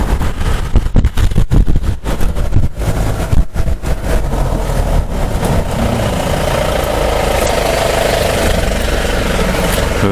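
Jeep engine running steadily on a safari trek through Thekkady, a continuous low rumble that stays loud throughout, with some bumps and clatter in the first few seconds.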